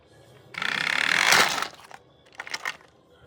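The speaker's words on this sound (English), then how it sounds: "Thomas smashed right into Percy." Toy train engines collide in a crash: a loud, sustained crunching burst of about a second, then a quieter pause and a short second clatter of smaller impacts, with no talking.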